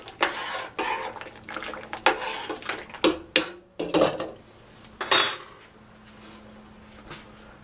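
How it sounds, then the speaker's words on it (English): Pasta is stirred in a Toastess electric cooker with a utensil that clinks and scrapes against the pot in uneven bursts, growing quieter toward the end. "another stir, get that heat mixed in with the food."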